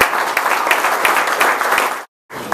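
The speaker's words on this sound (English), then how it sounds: "let's give them a round of applause" A breakfast crowd at a Hutto Economic Development Corporation event bursts into dense, loud applause welcoming new members, many hands clapping evenly before cutting off abruptly near the end.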